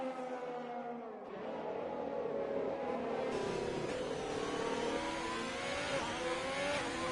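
Ferrari and Haas race cars battle in a racing video game at the Hungary GP, high-pitched engines revving and climbing through gears, close and loud, overlapping one another.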